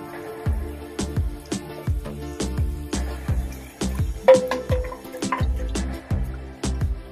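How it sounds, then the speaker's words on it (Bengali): Water poured into a pan of cooked spice masala for dhoka curry, heard as a close run of dripping, splashing liquid with repeated low plops throughout, no talk. "আমি এবার জল দিয়ে দেবো"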